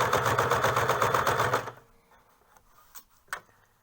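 A sewing machine stitches fabric for a hood, a fast steady mechanical chatter that runs loud for about a second and a half and then stops, followed by a few faint handling clicks.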